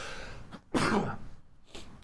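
A single sharp sneeze bursts out abruptly, loud and close, with a fainter breathy sound following shortly after in an otherwise quiet room.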